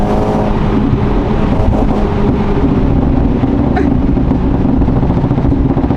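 Car engine revving hard under acceleration, close and loud, a continuous rising and falling roar with steady road noise and no speech.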